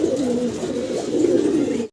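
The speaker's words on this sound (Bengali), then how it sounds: "কিছু কাকা কবুতর দেখাচ্ছি আমার সম্মানিত দর্শকদের" Kaka pigeons coo continuously at a farm, a close, loud, low rolling cooing that fills the whole short moment with no talk over it.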